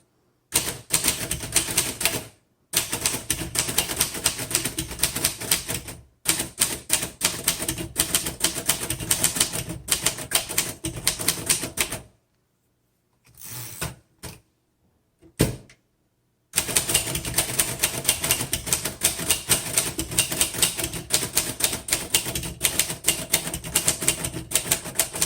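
Typing on a 1935 Royal Model O vintage typewriter: rapid, dense keystroke clatter in long bursts, broken by short pauses and a few isolated clunks, close and loud.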